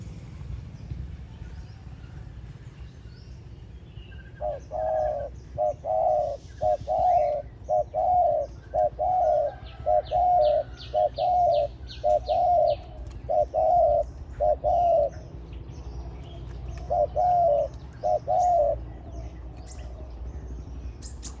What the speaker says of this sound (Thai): แต่เสียงมันหองนะครับนกตัวนี้